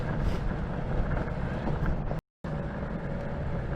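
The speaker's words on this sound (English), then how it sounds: "on rough asphalt and on cracks with urethane wheels, this thing's loud, not the motors, the board itself" Electric skateboard on urethane wheels rolling loudly over rough, cracked asphalt, a steady broadband roar with wind buffeting the microphone, broken by a brief quarter-second dropout midway.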